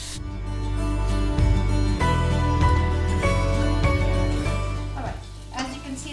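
Onions frying with turmeric, garam masala, cumin and crushed garlic in a pan, a steady loud sizzle with repeated stirring scrapes and clinks throughout.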